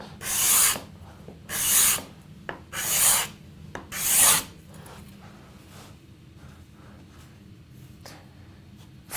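A card scraper pulls shavings off a wooden surface in four rhythmic, loud, raspy strokes close up, followed by quiet.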